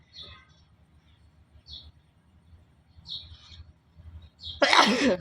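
A single loud, close sneeze bursts out near the end after quiet stretches with a few faint high chirps and low background hum.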